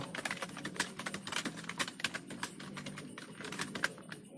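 Rapid typing on a computer keyboard while writing in Microsoft Word, a close, steady patter of crisp key clicks with a few heavier strokes, alone and without talk.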